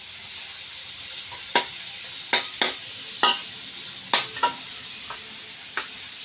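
Eggs hitting a hot pan for fried rice, a steady frying sizzle broken by several sharp clinks and scraping stirs of a utensil against the pan, close and fairly loud.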